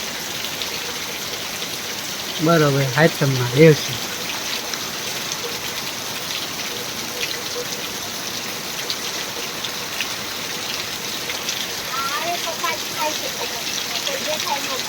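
Heavy rain pours down in a steady, even hiss through the whole stretch, with people briefly talking over it near the start and again toward the end.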